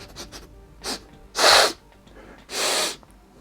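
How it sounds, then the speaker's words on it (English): Several close, sharp sniffs at a Warhammer Underworlds: Deathgorge board game box, a few faint quick ones and then two loud, longer inhalations. "We got to come in for a sniff test."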